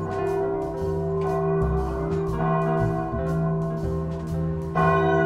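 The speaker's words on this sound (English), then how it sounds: "I hear bells." Church bells ringing in the game Hidden Cats in Paris, sustained overlapping tolls with long resonant hum, struck repeatedly in a steady pattern, clear and prominent with no talk over them.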